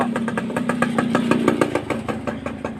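A motorcycle with a modified exhaust idles with a loud, lumpy exhaust putter, steady rhythmic pulses close by with no talking.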